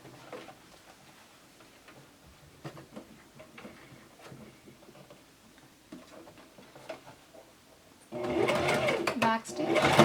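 Near the end, a sewing machine starts up with a loud buzzing run while stitching a pleated cloth face mask. Before that come soft ticks and handling sounds, with talk throughout.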